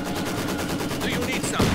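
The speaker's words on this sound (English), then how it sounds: "MG42 firing in" Rapid bursts of MG42 machine gun fire in the Company of Heroes 2 battle game, a dense rattling stream mixed with other battle noise and faint voices underneath.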